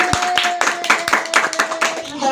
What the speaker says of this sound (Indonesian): Tepuk tangan buat Mbak Kirana